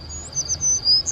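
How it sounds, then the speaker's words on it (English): Outdoors on a porch, birds chirp in short repeated high tweets over a steady buzzing drone of insects, fairly close and clear with no voices. "there's like birds and bugs that you can hear out here"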